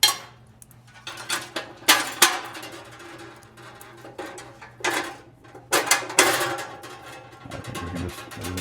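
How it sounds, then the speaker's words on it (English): Steel 5/16 bolts handled for a Flathead engine windage tray, with close metallic clinks, rattles and knocks in irregular bursts over a faint steady hum, and no talk. "I got some 5/16 bolts here."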